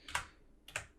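Two quiet, crisp clicks of computer keyboard keys, arrow or WASD keys pressed about half a second apart, close and isolated in a silent room.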